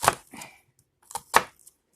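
A knife cuts through an onion on a cutting board: four crisp, separate chops close by, spaced unevenly, with quiet gaps between them and no talking.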